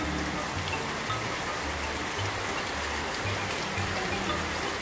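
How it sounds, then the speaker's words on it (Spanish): Steady rain falling outdoors at a rural home, a continuous even hiss of drops hitting surfaces with no voices over it. "Siempre que vengo acá hay lluvia y eso es bendición."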